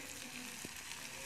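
Fish rubbed with salt and turmeric frying in a pan with onions, giving a steady, soft, even sizzle throughout with a brief clink partway.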